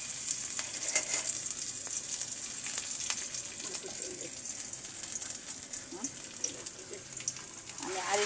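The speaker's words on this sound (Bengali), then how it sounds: "এবার এই তেলের মধ্যে আমি দিয়ে দেব পেঁয়াজ কুচি, আর একটু তেল দেব আমি পেঁয়াজ এবং রসুন কুচি দিচ্ছি।" Chopped onion and garlic frying in oil in a pan, giving a continuous close crackling sizzle with occasional utensil clinks and stirring scrapes.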